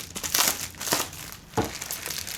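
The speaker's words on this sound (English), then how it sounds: "it comes in a really pretty purple foil like this. And let's go ahead and tear it open." A purple foil Ipsy mailer package is torn open, giving close, loud crinkling and ripping in several uneven bursts, with no voices.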